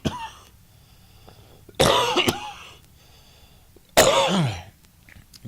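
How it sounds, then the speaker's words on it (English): A person with a lingering residual cough gives two sharp, harsh coughs a couple of seconds apart, close to the mic, with quiet room tone between them. "I got this residual cough."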